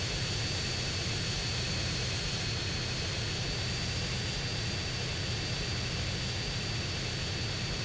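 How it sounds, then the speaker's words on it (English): A plane in the video game GTA San Andreas drones past with a continuous, steady engine roar and hiss, filling the clip without any talk. "Thank you, plane."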